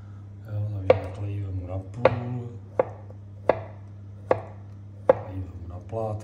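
A knife chops celery on a cutting board during the making of a Czech Vlašský salát, with six sharp, evenly spaced cuts landing close and clear over a low background hum.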